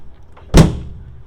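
The tailgate of a 2018 GMC Sierra 1500 crew cab pickup shuts with a single sharp metallic clunk and a short rattling decay, heard up close and alone.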